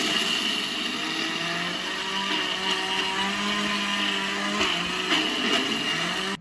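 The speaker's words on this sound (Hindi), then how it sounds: "इन ड्राई फ्रूट्स को हम ग्राइंड कर लेंगे, ठीक है, इसका पाउडर सा बना लेंगे" A kitchen grinder blends dry fruits into powder with a loud, steady whirring drone that runs unbroken for about six seconds and then cuts off abruptly.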